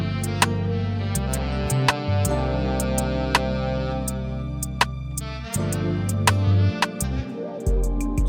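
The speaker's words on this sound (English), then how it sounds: "the pinchy hi-hat" Short, pinchy trap hi-hats tick in sparse, uneven clusters over a chill melodic beat with deep 808 bass and soft chords, crisp and close in the mix, no voices.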